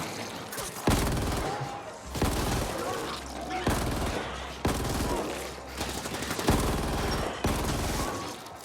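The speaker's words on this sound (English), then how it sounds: "Check out these helpful sentry guns." Sentry guns fire in the video game The Ascent, with repeated bursts of rapid automatic gunfire in several volleys, loud and close, and a voice talking between the bursts.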